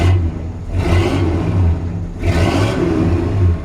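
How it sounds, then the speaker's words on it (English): A 1966 Ford Galaxie 500 with a near-stock exhaust revs twice from a steady idle. Each blip swells and falls back smoothly, close and fairly loud, with no talk. "So you can hear the engine sounds perfect."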